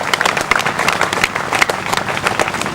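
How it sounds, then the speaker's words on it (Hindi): An audience at a business networking event claps hard for royalty achievers, a short burst of close, steady applause with a crowd murmur underneath. "एक बार जोरदार ताली सभी रॉयल्टी अचीवर के लिए।"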